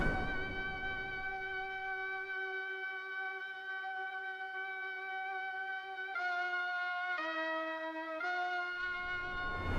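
A sustained synth melody with a bright, brassy tone, holding long notes that step down through a few pitches, played alone without talk, in a vintage soul style.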